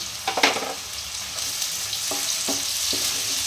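Onions fry in a pan for a soybean chilli dish, giving a steady close sizzling hiss with a few sharp stirring clicks near the start and later, and no voices.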